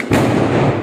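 A heavy thump from a firecracker goes off outdoors on Diwali night. One sudden loud blast is followed by a rolling, booming tail that stays strong through the short moment.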